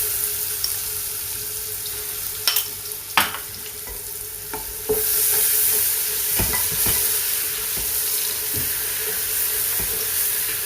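Onions frying with a spoonful of ginger-garlic paste for beef pulao, a steady close sizzle with intermittent clicks and scrapes of stirring, growing louder and denser partway through as the paste hits the hot oil.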